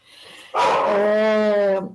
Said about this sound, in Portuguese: é meu cachorro, tá? Não tem como.